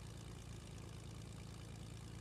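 A plane engine in Fortnite idles with a steady, dense propeller drone, low and unbroken throughout, with no voices.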